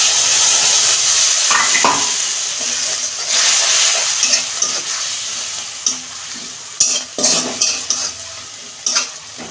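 Spice paste is stirred into a vegetable and fish curry in a pan, with loud sizzling and hissing at first and then a run of sharp spoon-against-pan scrapes and knocks.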